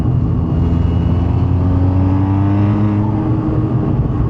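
The 490 hp Audi S1 engine drones loudly and up close, with a deep exhaust rumble and rising whine from the turbo, holding a steady strong tone with slight pitch changes throughout.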